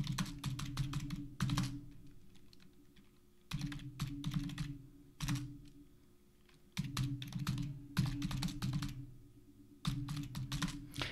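Bursts of clattery typing on a computer keyboard while entering words into SEO content software, several quick runs of keystrokes separated by short pauses, close and fairly quiet with no talking.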